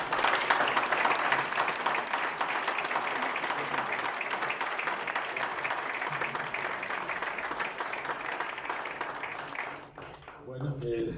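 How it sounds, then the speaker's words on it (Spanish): An audience applauding at the close of a book presentation event, dense sustained clapping that fills the room and fades out near the end. "el público que vamos a decir que hasta aplaudió al final"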